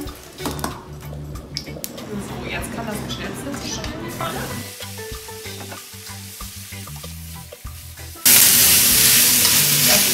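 Clarified butter heating in a hot frying pan, a continuous sizzle with scattered crackles and some stirring or utensil clatter, growing to a loud, bright hiss near the end.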